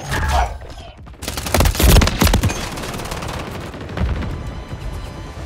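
Rapid bursts of automatic gunfire in the Call of Duty MW3 beta shooter, dense overlapping volleys that stay loud and close for the whole stretch with a brief lull near the start.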